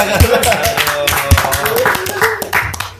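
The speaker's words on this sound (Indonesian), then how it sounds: "tepuk tangan dulu lah" Small podcast audience clapping at a café recording, a short, loose patter of hand claps close by, mixed with people talking over it.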